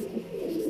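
A Punjabi Malwai pigeon coos softly and continuously, a low throaty warble close by with no other sounds.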